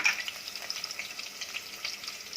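Ginger garlic paste hits frying onions in a pan for khichdi, giving a faint, crackling sizzle with small irregular pops and no voices.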